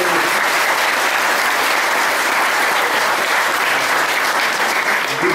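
Audience applause at a youth meditation gathering, a dense, steady wash of many hands clapping at full volume for several seconds with no pause.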